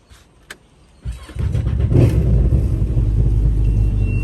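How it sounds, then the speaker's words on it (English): Boat engine cranks after a quiet moment, catches and settles into a steady loud rumbling run, close by with no voices. "Okay, the engine is now running."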